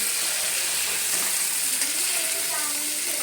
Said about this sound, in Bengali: এখন পেঁয়াজ টমেটো বাটাটা দিয়ে দিলাম এটাকে ভালো করে তেলের সঙ্গে ভেজে নিলাম